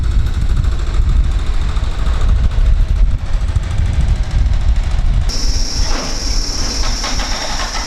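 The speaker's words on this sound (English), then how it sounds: "Heavy plant machinery here." Heavy plant machinery engine running at roadworks on a closed road in Blackpool, a loud, steady low rumble that carries on throughout, with a high whine joining in partway.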